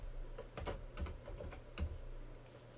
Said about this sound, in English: go ahead and type it out again